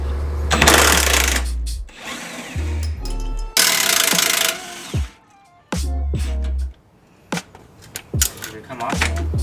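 A power tool zips off 15mm bolts from a shock absorber on a Mustang Shelby GT500 in several loud, sustained whirring bursts, separated by brief pauses and clanks.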